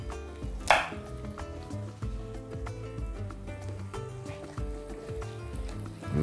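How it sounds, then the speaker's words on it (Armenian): Onion and celery stalk chopped finely with a knife on a board, a fast run of crisp close knocks with a brief louder clatter early on. "Մանր կտրատում և տապակում ենք։"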